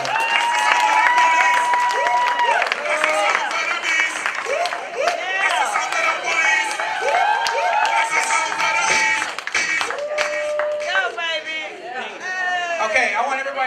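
A comedy show crowd in Owasso applauds and cheers after a comedian's set, sustained clapping under lively whoops, shouts and voices from the audience.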